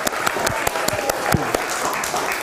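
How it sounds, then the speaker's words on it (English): A crowd claps together in a brief burst of applause, dense and steady with a few sharper individual claps standing out. "Give yourselves a round of applause."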